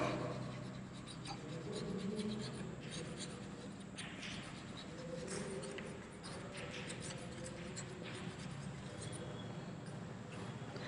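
Marker or chalk scratching on a classroom board while a measurement is written, a faint continuous scribble heard close up over steady room noise.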